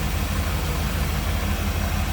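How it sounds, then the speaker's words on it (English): A 1948 Chevrolet Fleetline street rod convertible with a V8 and HEI ignition runs at a smooth, even idle. It makes a steady, close, low rumble with a faint pulsing beat and no talk over it. "So smooth running V8 underneath it"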